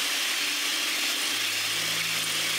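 An electric hand mixer whips egg whites with a little lemon juice at medium-high speed, giving a steady close whir with a hum that shifts pitch partway through.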